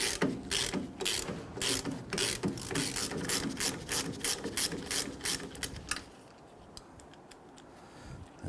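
Rapid, loud clicking of a ratchet wrench loosening the lower caliper bracket bolt on the rear brakes of a Nissan Frontier pickup, repeated bursts of pawl clicks for about six seconds, then quieter shop ambience.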